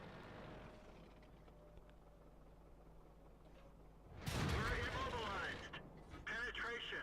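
A tank cannon fires in World of Tanks, a sudden loud boom about two-thirds in, rising from a quiet engine hum and ringing on with mechanical rattle, while a voice speaks over the scene.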